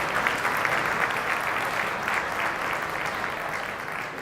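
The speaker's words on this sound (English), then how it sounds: "Let's have an applause for Alberto Tobias." Audience at an Iberdrola shareholder day event clapping steadily and densely for the full stretch, a broad, even wash of many hands in a large hall with no voices standing out.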